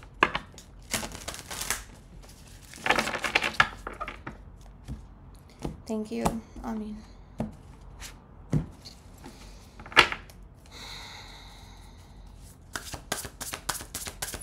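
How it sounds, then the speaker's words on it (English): Tarot cards are shuffled in quick riffling bursts, with crisp flicks and taps, while a person speaks briefly in between. "Let me get one more shuffle in."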